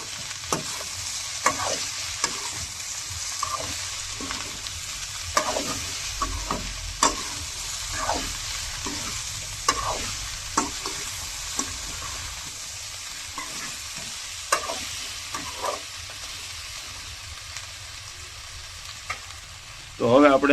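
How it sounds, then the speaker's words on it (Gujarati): Okra and potato curry is stirred in a pan after salting, with repeated scraping spoon strokes over a soft background sizzle and a louder clatter at the very end. "હવે પાછું હલાવીને મિક્સ કરી લઈએ."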